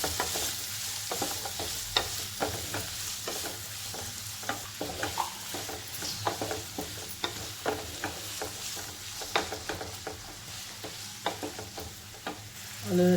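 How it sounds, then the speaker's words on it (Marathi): Chopped onion and asafoetida sautéing in a pan, with a low continuous sizzle and frequent light, rhythmic clicks and scrapes of a spoon stirring close by, steady throughout and without speech. "थोडंसं हिंग, कापलेला कांदा 3 घेतले. थोडंसं परतून घेऊया आपण."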